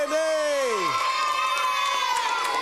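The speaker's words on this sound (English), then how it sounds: "Give yourselves a big round of applause." A studio audience of Cub Scouts from Cub Pack 27 cheers and claps, children's excited shouts and whoops rising over applause, with a voice swooping downward at the start.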